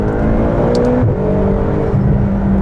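McLaren GT supercar engine revving after a downshift on a bumpy paved road, a loud, close interior drone with rising harmonic tones that climb in pitch and hold steady.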